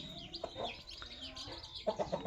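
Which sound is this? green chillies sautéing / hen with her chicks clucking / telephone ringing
hen with her chicks clucking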